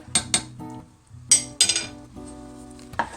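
Salt and vanilla are being stirred into a pot of caramel frosting, with a metal spoon clinking and scraping against the pan in several bright close strikes amid quieter stirring, and no voices.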